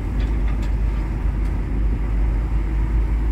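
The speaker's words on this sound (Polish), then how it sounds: "Ten hałas to dlatego, że otworzyliśmy okna." Steady, loud road and wind roar pours in through open car windows on a drive through mountainous Slovenian terrain, a dense continuous rush with no talk.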